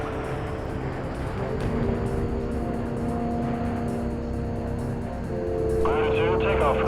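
A jet taking off in Ace Combat 6 makes a steady engine roar with a rising whine, and radio voices talk over it.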